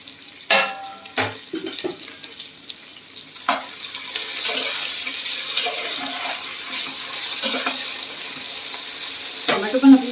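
Tomatoes sauté in a pan with a soft sizzle and scattered stirring clatters and spoon knocks, growing into a steadier hiss midway.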